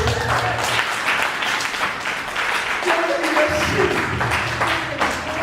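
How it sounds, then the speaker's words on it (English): A church congregation claps as an offering to the Lord, a full, continuous burst of many hands applauding together with voices and a low tone underneath throughout. "I thought you would give a clap offering unto the Lord."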